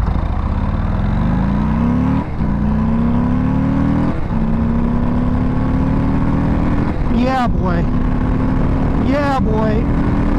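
A Harley-Davidson Low Rider ST motorcycle accelerates hard, its engine note climbing steadily through two gear shifts with brief dips, then loud sweeping whines near the end, all close and continuous.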